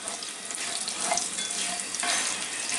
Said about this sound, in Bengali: আমি একটা সসপ্যানে তেল দিয়ে নিছি, এর মধ্যে আমি একটু জিরা আর একটু জৈন, যেটাকে আজওয়াইন বলে, এই দুইটা একটু ফোড়ন দিব।